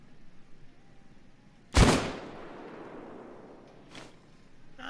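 A single loud blast from a Taurus Judge shotgun revolver in Payday 2 cracks out sharply and rings off, followed a couple of seconds later by a much fainter, shorter report.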